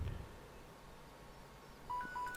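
Faint background hiss gives way to a few quick, clear phone tones near the end, short electronic beeps sounding close and alone.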